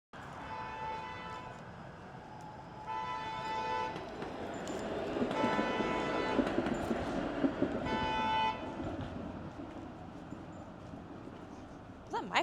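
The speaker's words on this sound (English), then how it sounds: "Was this car honking?" A car horn honks in sustained blasts, several long tones with pauses between them, over street noise and some talking.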